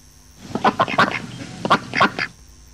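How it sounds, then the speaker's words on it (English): A series of duck quacks in two quick bursts, fairly close and loud, with short pauses between calls. "I see two ducks looking at me."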